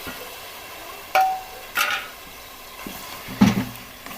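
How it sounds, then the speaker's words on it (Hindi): Halved potatoes are being stirred into spiced masala in a pot while cooking for degi aloo gosht, giving a faint steady sizzle broken by a few sharp spoon scrapes and clinks against the pan. "आलूओं को हमने इधर 4 से 5 मिनट के लिए अच्छी तरह से भुनाई करनी है"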